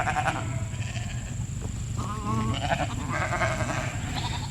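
Sheep on an August pasture bleat along a fence line, several wavering calls rising over a steady outdoor rumble, fairly close and with no talking.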